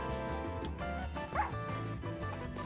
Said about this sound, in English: Dog, leave me alone!